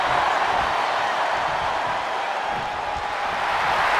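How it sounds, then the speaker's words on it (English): A roaring arena crowd in the WWE 2K23 wrestling video game cheers in a steady, dense wash of noise that fills the whole stretch, loud and continuous with no distinct voices standing out. "The sound of this crowd is deafening, and he's asking for more."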